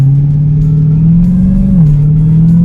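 Interior of a 797-horsepower Dodge Charger Hellcat Redeye in sport mode with paddle shifters on, the loud steady engine drone climbing in pitch as it accelerates, briefly dropping at a shift and then pulling on again.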